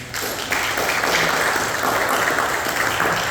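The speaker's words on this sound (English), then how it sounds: "Round of applause for these gentlemen." Audience applause at a Port Richey centennial gathering, a dense, sustained roar of many hands clapping that swells after a brief start and holds loud and steady to the end.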